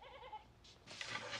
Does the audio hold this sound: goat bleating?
yes